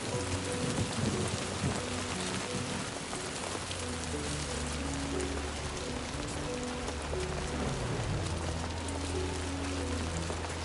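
Heavy rain falls in Death Stranding 2, a dense, steady hiss of drops pouring down throughout, with a low rumbling undertone beneath it.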